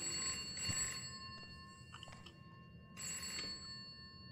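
A telephone bell rings in two bursts, a longer ring followed after a pause by a shorter one, with steady bright tones over a low background hum.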